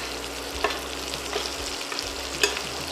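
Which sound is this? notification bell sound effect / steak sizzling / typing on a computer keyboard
steak sizzling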